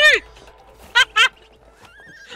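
Horse neighing in the video game It Takes Two: a loud whinny opens, then two short bright neighs follow close together, with game sounds and a tone underneath.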